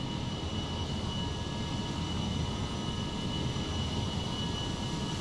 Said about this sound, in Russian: Вот такие здоровые самолеты